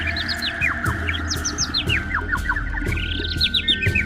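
Bright, rapid chirps and tweets from a small sparrow-like bird in a Hindi children's cartoon repeat without pause over a steady low background, with no talking.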